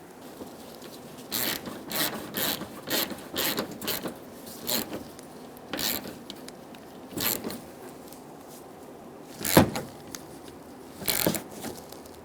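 A ratchet snugs down the bolts on the AC condenser of a 2010-2014 Subaru Outback, giving a series of short, close rasping clicks in bursts with brief pauses, plus one sharper knock near the end.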